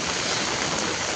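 Heavy rain pours at night in Mumbai, a dense, even hiss of drops close by with no voices.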